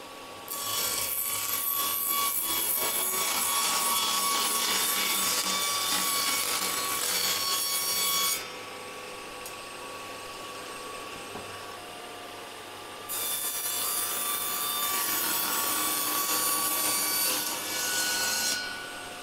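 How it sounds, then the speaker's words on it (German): 3 mm beech plywood being sawn to a 32 x 32 cm base plate, loud rapid rasping saw strokes in two long bursts separated by a quieter pause, close up with no talking. "Als erstes habe ich mir hier aus 3 mm Buchensperrholz eine Grundplatte gesägt, 32 x 32 cm"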